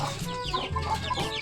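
Chickens gathered together at a fishpond cluck in short, overlapping calls, close by and fairly quiet.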